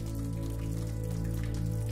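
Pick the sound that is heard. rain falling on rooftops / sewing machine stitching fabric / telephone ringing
rain falling on rooftops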